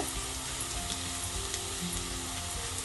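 Onions fry in a pan for a Jaffna-style lentil curry, giving a steady, close sizzle with a faint bubbling texture and no voices.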